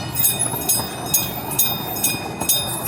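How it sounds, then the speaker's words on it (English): A train bell rings repeatedly in an even rhythm at the Cincinnati Zoo, about six strikes with steady tones lingering between, over a low rumbling background of the passing train. "That must mean the train's coming by."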